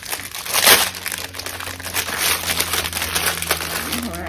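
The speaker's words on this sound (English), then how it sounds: "Sorry for all the crinkling." Plastic packaging around a small jar of Aveeno Restorative Skin Therapy cream crinkles and crackles loudly up close, with a sharp burst of crumpling early on and continued rustling after.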